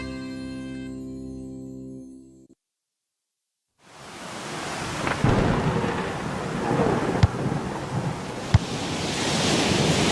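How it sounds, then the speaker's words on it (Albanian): A cartoon rainstorm with strong wind follows a short musical passage and a brief silence, building into a loud, steady roar of rain and gusting wind with a few sharp thumps. "Oh, çfarë shiu që po bie jashtë. Edhe era shumë e fortë."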